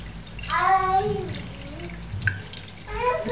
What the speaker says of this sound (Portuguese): Então, eu começo molhando as cerdas do pincel.